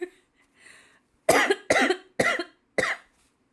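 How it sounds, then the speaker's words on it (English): A burst of four sharp, harsh coughs in quick succession, close and loud, after a brief faint breathy sound. "So funny I'm having a coughing fit apparently"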